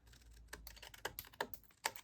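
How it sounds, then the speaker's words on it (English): Sticky-coated craft scissors trim small paper pieces, producing a string of quick, crisp snips at an uneven pace. The cuts are close but faint, with no talking. "I'm just going to take my sticky scissors and just go along here."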